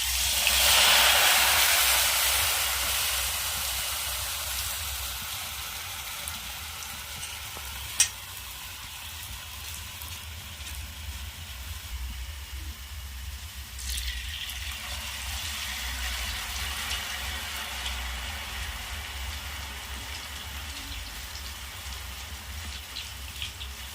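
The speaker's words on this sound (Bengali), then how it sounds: "এবার আমি এই গরম তেলে দিয়ে দেবো।" Potato snacks dropped into hot oil burst into a loud, bright sizzle that slowly calms to a steady frying hiss with faint bubbling, close by and with no talking.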